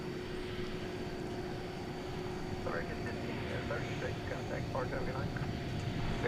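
An American Airlines airliner, flight 78 bound for England, at DFW Airport at night produces a faint, distant steady engine hum and whine beneath someone talking.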